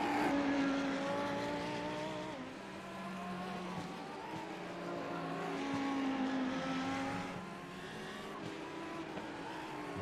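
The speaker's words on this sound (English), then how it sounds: "Bouncing over the curbs, you can hear the revs rise as the tail end scrambles around for grip." A Lamborghini GT3 race car in iRacing at Belle Isle revs up and down over the curbs, its engine note climbing and falling in waves at a moderate, distant-sounding level, with no talk over it.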